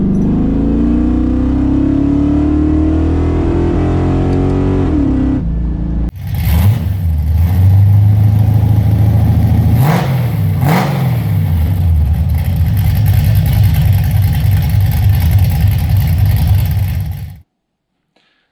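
Pontiac Trans Am engine out on its first drive of the season after winter, a loud, deep exhaust that rises in pitch under acceleration, then after a cut a heavy close rumble with two sharp revs before stopping abruptly.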